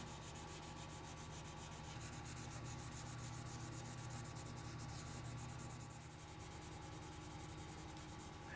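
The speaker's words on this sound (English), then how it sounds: "when I'm polish sanding, I'll use just the foam pad itself with my abrasive sheet" Polish sanding of a guitar's clear coat with a foam pad and abrasive sheet, a steady close-up rubbing and scraping that continues without pause throughout.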